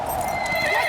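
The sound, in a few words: horses clip-clopping and neighing in video game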